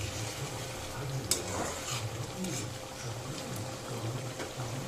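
Liver curry simmers in a pot on the stove, sizzling and bubbling quietly while a spoon scrapes and stirs it in a few soft strokes, close by.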